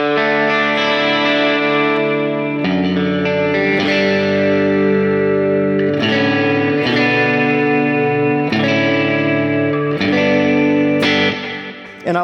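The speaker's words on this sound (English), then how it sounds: "I'll just run through kind of some of my reverb patches." An electric guitar plays through a reverb patch on a GFI pedal, sounding loud sustained chords struck every couple of seconds, each ringing out into a wide shimmering wash with no talking.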